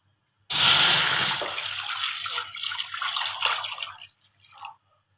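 Three to four glasses of water poured into a hot kadai for kheer, a sudden loud splash and hiss that starts sharply, then trails off into bubbling and dripping, ending in a brief final trickle.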